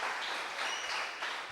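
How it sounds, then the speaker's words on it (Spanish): Church congregation at a devotional service breaking into loud, sustained applause, a dense wash of clapping that stays strong throughout the short burst. "Del aplauso fuerte al Rey bendito de la gloria"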